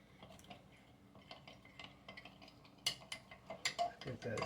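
Apple pie filling for a Southern scratch apple pie stirred in a pot, soft scraping and light clinks of a spoon against the pot, quiet at first and then a run of louder knocks near the end.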